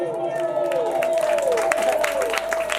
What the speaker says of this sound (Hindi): जोरदार तालियां बजाएं एक बार सभी।